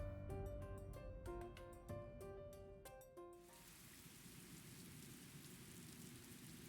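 Rain falling in the Scarlet Nexus video game, a steady broadband hiss rising after a few seconds of plinking music notes, continuous and even throughout.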